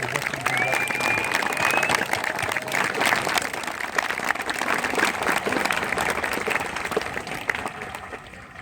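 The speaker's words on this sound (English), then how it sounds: "And I want to once again round of applause for our incredible MTIs for what you do every day." Steady, loud applause from a large crowd fills an Air Force basic training graduation ceremony, dense clapping sustained throughout without a break.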